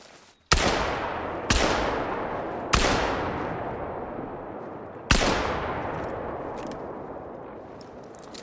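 Rifle shots at an animal in the hunting game theHunter: Call of the Wild, four loud sharp reports spaced a second or two apart, each trailing off into a long echoing decay.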